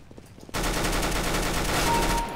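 Rapid automatic gunfire in the CS:GO video game, a dense continuous burst that cuts in abruptly and rattles on loudly for about two seconds.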